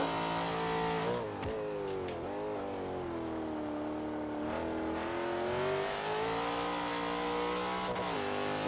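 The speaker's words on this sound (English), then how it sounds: "Tire spin, I like it." A racing car in a racing video game revs steadily with a strained, wavering engine tone, dipping briefly around shifts, loud and alone with no talk.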